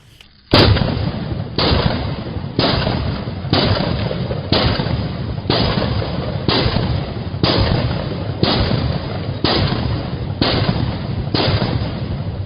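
Eleven evenly spaced, loud gunshot muzzle blasts fire in steady succession, about one per second, each a sharp crack with a short ringing tail, aimed to blow snow off an outdoor table.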